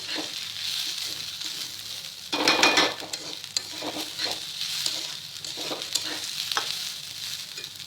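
Rice fries in mustard oil with a continuous close sizzle and brief spoon stirs and scrapes against the pot, flaring louder for a moment partway through.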